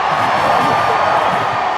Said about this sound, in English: The crowd charging up behind their team.